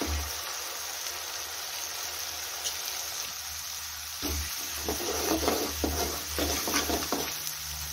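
Garlic and chili thecha frying in a pan as green gram leaves are prepared, a steady sizzle with a low background hum, scraping stir strokes picking up in the second half.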